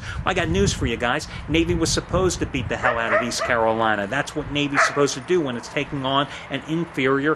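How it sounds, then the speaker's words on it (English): Dogs bark in the background behind a man's steady, close commentary, which dominates and masks the faint barks and yips throughout. "you have to excuse the dogs barking in the background."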